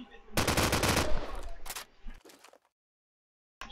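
Rapid bursts of gunfire from an esports tactical shooter match, a dense rattling volley up close followed by a couple of shorter bursts before fading into silence.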